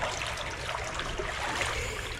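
Water rushing through a freshly unclogged culvert intake grate along a creek, a continuous close, fairly loud gurgling flow with no voices.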